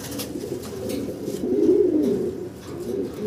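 Young fancy pigeons coo in low, rolling, repeated calls, loud and close, with the cooing swelling in the middle and continuing steadily without speech.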